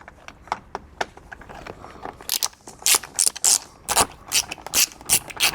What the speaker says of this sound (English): there's a 7mm bolt that we're just going to undo once you have that clip out of the way